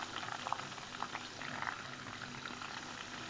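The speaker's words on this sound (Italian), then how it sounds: "Stiamo sempre friggendo, finché non sono belli dorati non sono pronti." Zucchini flowers stuffed with ricotta and anchovies deep-fry in hot oil, a continuous close bubbling sizzle with small crackles and pops, steady and fairly quiet, with no talking.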